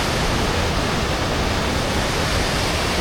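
Rushing water pours steadily over rock along the West Highland Way in the Scottish Highlands, making a loud, continuous, broadband roar with no voices.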